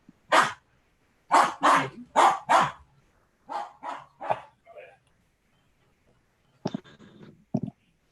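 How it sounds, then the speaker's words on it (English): A dog barks during a town board meeting, first a quick run of four loud close barks, then three quieter ones, and after a pause a couple of short sharp yaps. "And a dog."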